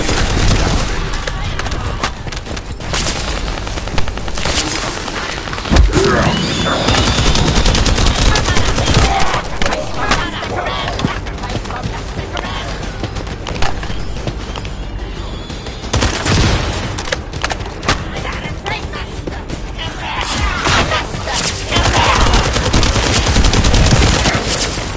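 Rapid automatic gunfire and heavy blasts from the video game The First Descendant, loud bursts and sustained firing nearly nonstop, with a few sharp booms standing out and game voices speaking over the shooting.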